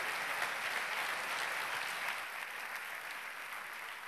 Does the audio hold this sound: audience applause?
yes